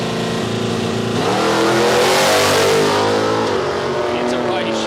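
A small hot rod drag car launches at Palmyra Raceway, its loud engine roaring and climbing steadily in pitch as it accelerates down the strip, with a commentator's voice mixed in.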